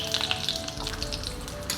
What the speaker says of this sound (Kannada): ಇದು ಫ್ರೈ ಆಗ್ತಾ ಇರೋ ಹಾಗೆ 2 ಹಸಿಮೆಣಸನ್ನು ಹಾಕ್ಕೊಳ್ತಾ ಇದ್ದೇನೆ. ಹಸಿಮೆಣಸು ಹಾಗೆ ಹಾಕಿದರೆ ಸಿಡಿಯುತ್ತೆ ಅದು